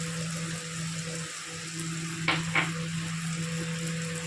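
Ginger-garlic paste fries in a pan with softened tomatoes, a steady sizzling hiss under a low constant hum, punctuated by two brief scraping knocks of a utensil.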